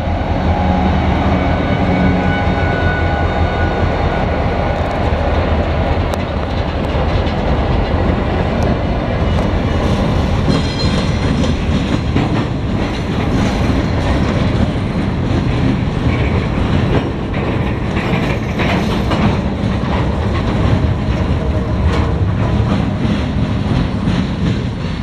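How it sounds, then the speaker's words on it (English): A Norfolk Southern northbound local freight train rolls past in Marion, Ohio, a loud, continuous rumble with rhythmic clickety-clack of wheels over rail joints, steady and close throughout. "that was Norfolk Southern, L38, came from Waldo, Ohio, and it's going to Bellevue, Ohio"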